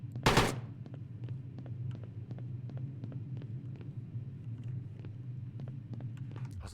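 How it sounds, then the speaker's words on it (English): Assault rifle fire in a video game: a loud burst up front, then a long run of evenly spaced sharp shots over a low, steady engine-like rumble, with no voices. "Alright, we're just gonna take the assault rifle."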